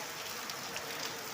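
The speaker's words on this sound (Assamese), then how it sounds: "আপোনালোকে দেখা পাইছে যে বৰষুণ পৰি আছে।" Heavy rain falls in Assam as a steady, even hiss, faint and continuous through the short moment with no other sounds over it.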